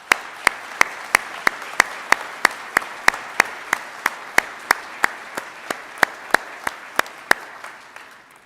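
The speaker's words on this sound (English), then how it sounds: "why don't we give them a well-deserved round of applause" Audience at a university graduation ceremony claps in a slow, steady, evenly spaced rhythm, each crisp clap distinct over a faint background murmur of a large hall.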